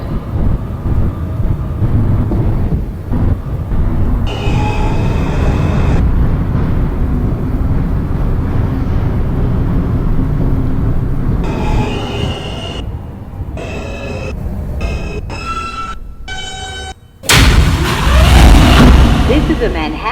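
An R160 subway car on a Manhattan-bound J skip-stop train near Cypress Hills gives a steady, loud rumble with squealing wheels and tonal chimes, then a sharp, louder roar near the end; a recorded voice announces over it.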